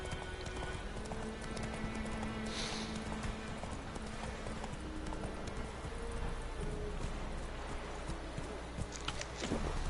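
Hooves of a horse in the video game The Witcher 3 clip-clop steadily at a brisk pace over a continuous background of game ambience, with a faint neigh partway through.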